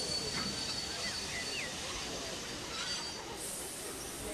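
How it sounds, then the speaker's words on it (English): A steam engine puffs into a station pulling a train of passenger carriages, heard as a faint, steady hiss and rumble with light squeals throughout. "the engine puffs into the station, pulling its train of carriages right on time."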